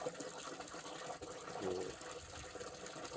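Water gushes steadily into a barrel set out for cows to drink, a continuous splashing fill heard up close for the whole stretch, with its tone shifting slightly midway.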